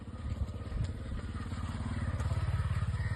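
A motorcycle engine runs steadily nearby with a low, throbbing, rhythmic pulse and a little mechanical clatter, holding a constant idle-like beat throughout.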